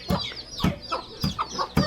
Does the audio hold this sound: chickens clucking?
yes